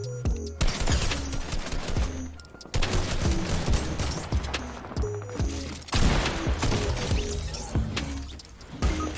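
Rapid, loud shotgun blasts and bursts of gunfire from a video game montage, dense overlapping shots with heavy booms in quick succession, broken by short pauses.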